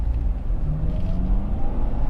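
Honda CR-V 2.0 i-VTEC Sport station wagon pulling out of a junction, its engine a steady low rumble with a faint rising tone as it accelerates, heard from inside the cabin.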